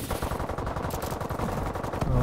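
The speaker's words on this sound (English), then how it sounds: "Oh, hearing gunfire out here." Rapid automatic gunfire in the video game Call of Duty: Advanced Warfare, a dense, continuous burst of shots at moderate level lasting a couple of seconds, with no talk over it.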